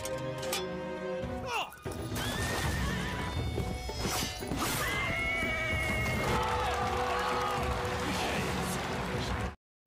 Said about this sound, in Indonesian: Bahkan dalam pertandingan perang berkuda yang menjadi kebanggaan klan King Yan, Jie pun juga mengalahkan